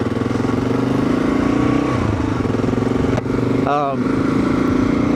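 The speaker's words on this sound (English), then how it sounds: "Did you hear how well the Kawasaki started, huh?" A Kawasaki KLR650 single-cylinder motorcycle engine runs loud and close at a steady, throbbing idle, its pulses briefly dipping and then recovering mid-way as the running continues.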